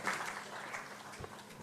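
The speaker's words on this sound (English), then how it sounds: "Welcome, a great round of applause, a past president of ICI, CA Prafulla Sajed sir." A conference audience at a national capital markets event applauds a past institute president being welcomed, a faint, steady patter of distant clapping that holds evenly throughout.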